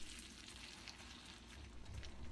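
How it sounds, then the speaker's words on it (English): Steady crackling sizzle of a vegetable patty frying in hot oil in a pan, close and continuous, with a low rumble underneath and no voices. "add into a hot frying pan that's already got a tablespoon of oil in it."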